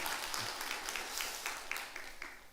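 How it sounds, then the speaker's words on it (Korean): A church congregation at a Sunday service gives warm applause, soft and somewhat distant clapping that blurs into an even wash, heard alone and briefly. "여러분 뜨겁게 박수를 한번 환영해 주시기 바랍니다"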